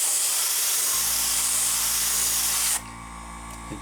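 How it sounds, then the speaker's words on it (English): Aerosol paint hisses steadily through a stencil template onto a 1:1000-scale Pike-era Enterprise model ship, a loud continuous spray that cuts off abruptly near the end, leaving a faint low hum. "I am just taking this piece of template material and moving it around the ship and then spraying through the holes"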